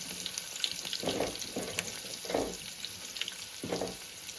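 Onions frying in a pan for a vegetarian dried bamboo-shoot curry: a steady close sizzle and hiss throughout, broken by a few soft scraping bursts from stirring, with no talking.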